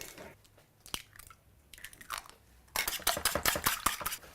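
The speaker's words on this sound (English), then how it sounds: "So I'm going to whisk my eggs together." Six organic eggs whisked together in a bowl produce quick rhythmic clinking and tapping strokes, sparse at first and then a dense, louder burst close by.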